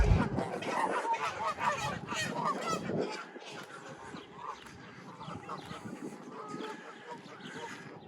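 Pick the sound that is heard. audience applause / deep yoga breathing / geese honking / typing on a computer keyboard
geese honking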